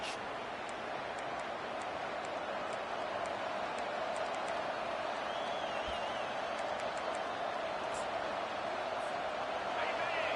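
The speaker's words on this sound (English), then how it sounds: "This crowd bringing an ear-splitting welcome to their visitors" Stadium crowd in a college football video game, Missouri against South Carolina, giving a steady, broad roar of cheering that stays level and continuous throughout, with faint whistles and scattered sharp pops above it.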